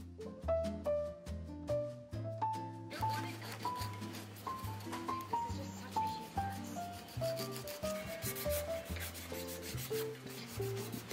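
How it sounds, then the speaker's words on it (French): A file rubs and buffs across fingernails in quick, repeated strokes, soft and close, under light background music. "je voulais prendre le temps de les limer, de les polir"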